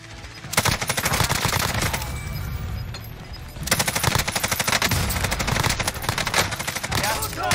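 Rapid automatic machine-gun fire in the video game Call of Duty Warzone: loud, sustained bursts of closely spaced shots with a brief lull in the middle before the firing resumes just as hard.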